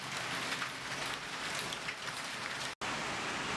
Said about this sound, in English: Ladies and gentlemen, we have hail here in Curitiba.